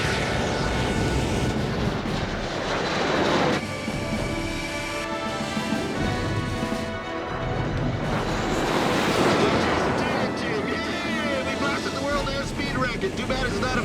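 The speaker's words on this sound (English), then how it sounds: "Afterburner now." An Avro Arrow jet aircraft flying with afterburner makes a loud, continuous roar that swells and fades through the clip, accompanied by strong wind rush and voices talking over it.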